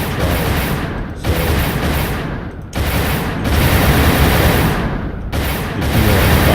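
Phasers fire rapidly in the space game Space Nerds In Space, a dense, loud, continuous crackling barrage with a few abrupt breaks between volleys, close and without talking.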